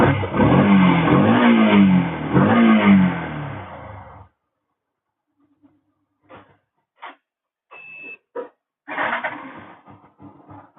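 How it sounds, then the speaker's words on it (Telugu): A Yamaha FZ motorcycle fitted with a special choke body kit runs with a loud, close engine that rises in two rev bursts, then cuts out, followed by scattered short clicks and knocks. "ఒకసారి బండి స్టార్ట్ చేస్తాను."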